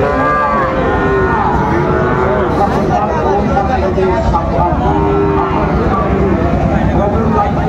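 Sahiwal calves and bulls low repeatedly at a busy cattle market in Chattogram, close and loud over the chatter of voices and crowd noise.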